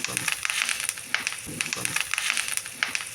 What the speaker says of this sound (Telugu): ఇప్పుడు కరివేపాకు కూడా బాగా ఫ్రై చేయండి